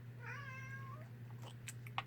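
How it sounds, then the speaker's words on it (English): A single cat meows once, close and fairly faint, the plaintive call rising and then trailing off, followed by a few light clicks and taps indoors. "What's the matter, cat?"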